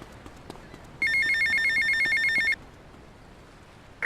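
Payphone ringing in Grand Theft Auto Vice City, one clear electronic ring burst of about a second and a half with a rapid trilling pulse, alone against quiet background.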